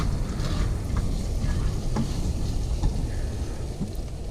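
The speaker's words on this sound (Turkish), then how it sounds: "dediğim gibi kavuruyorum biraz pilavı" Rice is sautéed in a pan for pilaf in a camper van kitchen, a loud, continuous frying sizzle with scraping stir noises and occasional crackles.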